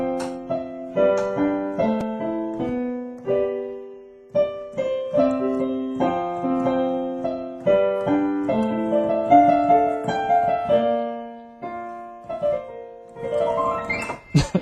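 Solo piano plays a remix version of a song, with chords and a melody line in a steady, moderately loud flow and short pauses between phrases, close and alone with no talking.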